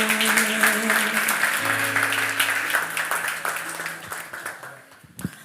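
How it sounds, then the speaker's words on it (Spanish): A church congregation applauds in sustained, dense clapping that gradually thins out, with sustained instrumental tones beneath and a final thump as it ends. "Un fuerte aplauso para el Señor."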